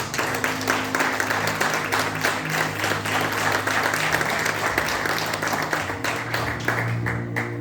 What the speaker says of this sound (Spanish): ¿Qué le parece si le da una ofrenda de palmas al Rey de Reyes?